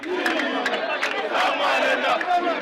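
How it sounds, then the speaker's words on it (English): A crowd of protesters at a rally in Congo, with priests among them, chanting loudly in unison and clapping, a dense, steady roar of voices with rhythmic claps cutting through throughout. "protesters, with priests walking amongst them, clapped and chanted"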